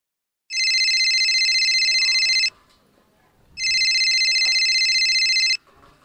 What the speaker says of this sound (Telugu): మీ బాపమ్మ ఫోన్ చేస్తాందే